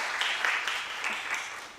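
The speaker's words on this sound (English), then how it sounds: "Please give a round of applause." A round of applause from a workshop audience for the organizers, brisk, dense clapping at a steady level, close and lively, with no voices over it.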